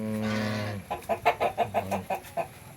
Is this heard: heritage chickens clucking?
yes